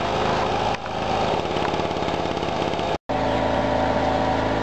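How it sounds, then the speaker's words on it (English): A generator runs steadily to power lights inside Combe Down Tunnel, a loud, constant engine drone that holds throughout with one brief dropout. "generator going to actually produce some power to power the lights inside"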